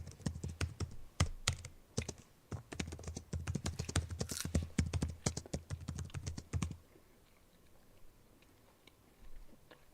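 Rapid keyboard typing fills most of the stretch, a dense run of close, crisp key clicks that stops abruptly, leaving a quiet room with faint background noise.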